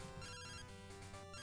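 Telephone ringtone in the video game Pokémon Gold, a continuous bright electronic chiptune ring that holds steady and loud for a moment, with no talk over it.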